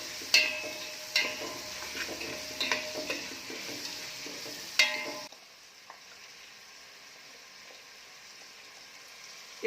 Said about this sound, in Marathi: तेलामध्ये चांगले परतले जातात.